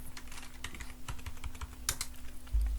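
Rapid keystrokes on a computer keyboard while a colour code is entered in Photoshop, with quick irregular clicks up close, a short burst, and a low steady hum beneath.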